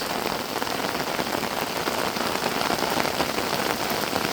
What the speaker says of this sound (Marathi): सकाळी सकाळी मस्त पाऊस पडतो आहे